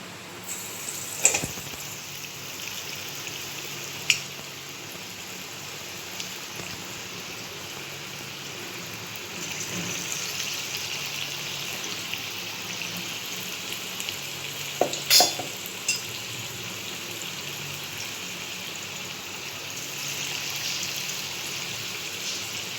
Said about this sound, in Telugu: మనం బోండా వేసేసుకుందాము.